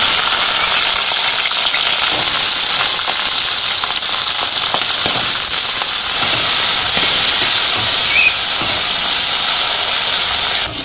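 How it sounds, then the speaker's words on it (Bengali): Green chilies and garlic fry in hot oil with a loud, constant sizzling hiss that fills the whole stretch closely and evenly, with no talking. "এখন কাঁচামরিচ আর রসুনগুলো আগে ভাইজা নিমু"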